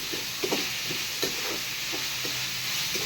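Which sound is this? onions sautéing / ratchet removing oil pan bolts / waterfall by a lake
onions sautéing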